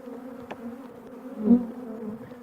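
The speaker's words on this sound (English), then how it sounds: "How would you describe the sort of behaviour of the bees, Tom, at the moment?" Honeybees around a hive in early spring, when pussy willows are in bloom, give a steady low buzz that swells briefly near the middle, with a sharp tick early on.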